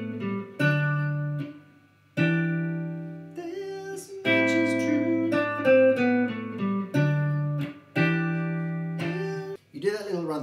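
Clean guitar played alone, strumming a chord progression as a series of ringing chords separated by short pauses, close and moderately loud, ending with a quick slide.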